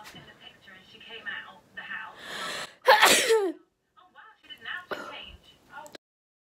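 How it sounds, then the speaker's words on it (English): A single sharp, loud sneeze bursts out between quiet bits of speech, followed by more soft talking. "I'm going to sneeze."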